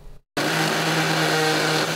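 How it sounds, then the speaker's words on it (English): A century-old time capsule seal at Humboldt High School in Humboldt, Kansas breaks open with a sudden burst after a brief silence, followed by a loud, steady grinding and whirring, like a power tool cutting, sustained close by. "That's the sound of a century-old seal being broken."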